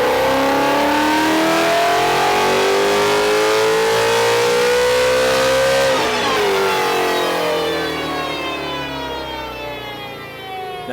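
Ford GT350 fitted with a Z-pipe exhaust revving on a dyno, loud engine climbing steadily in pitch for about six seconds, then dropping back and fading off.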